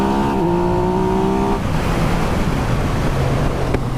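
A 2017 Yamaha MT-09 motorcycle accelerates hard to overtake on the road. The engine note climbs sharply and then falls into a steady drone under loud wind rush.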